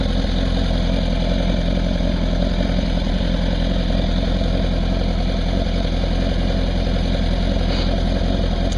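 Kawasaki ZX-10R sport motorcycle engine idling close by, a steady loud even rumble holding constant throughout with no breaks or revving.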